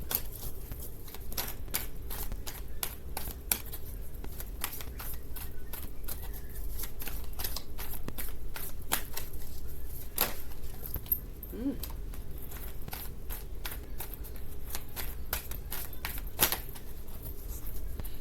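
A Spiritual Treasures Oracle card deck is shuffled continuously, giving quick papery riffles and flicks with a few sharper snaps. The sound is close and steady and lasts a long stretch, with no talking.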